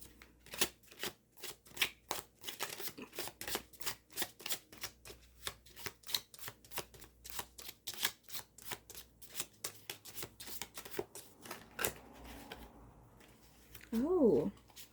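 Oracle cards shuffled repeatedly in a quick, steady riffling rhythm, close and fairly quiet, with a brief clatter near the end.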